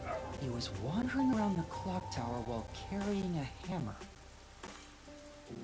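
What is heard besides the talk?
dog barking in the room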